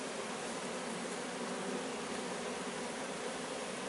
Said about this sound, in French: à côté, les abeilles de la cheminée, elles sont imperturbables, je suis devant la porte, elles bossent, elles font leur vie tranquille